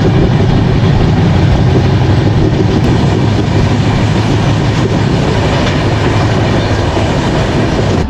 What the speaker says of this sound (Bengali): তো ট্রেন আমাদের ছেড়ে দিল।